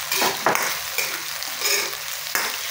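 Sliced tomato dropped into a pan of softened onion and garlic while cooking fish sinigang, bright sizzling and frying with scraping stirs and a few clinks, close and continuous.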